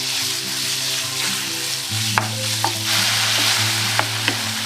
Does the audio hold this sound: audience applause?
no